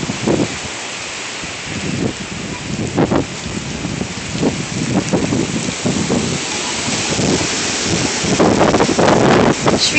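Strong Hurricane Sandy winds roar outdoors in a steady broadband rush with rain, buffeting gusts and rising surges toward the end, loud and continuous with no talk.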